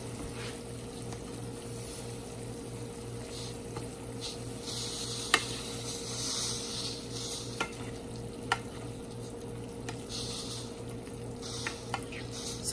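Vegetables frying in a pan while being stirred, a steady close sizzle with occasional sharp taps and scrapes of the utensil against the pan, no voices.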